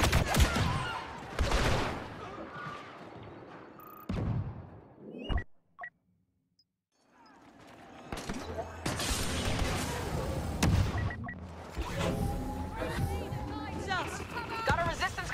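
Turret defenses fire in Star Wars Battlefront 2 during a Galactic Assault match, with booming, rattling blasts in bursts around a short silent gap, mixed with in-game voice chatter and battle noise.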